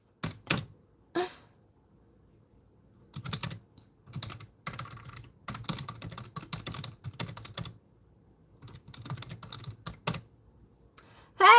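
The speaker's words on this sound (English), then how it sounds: "my energy sitting here typing away" Computer keyboard typing in irregular bursts, with clusters of close, crisp key taps separated by short pauses and no talking.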